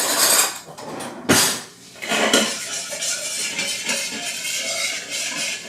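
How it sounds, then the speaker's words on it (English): A metal spoon stirs a cucumber salad dressed with honey in a bowl, giving sharp clinks and scraping knocks against the bowl, loud and close, in irregular bursts with no talking. "So now we need a spoon, and we're going to give that a stir up."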